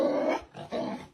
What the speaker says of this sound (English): It's always the small dogs like corgis, man.